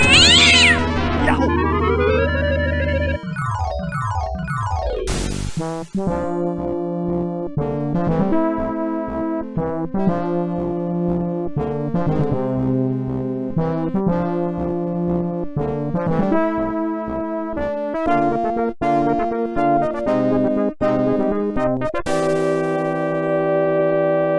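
A cat meows in the PC game Indiana Jones and the Fate of Atlantis. A rising, wavering meow comes near the start, followed by a long stretch of steady tonal game sound, loud and clear, with no voices.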